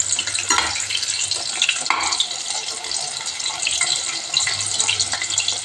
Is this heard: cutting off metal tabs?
no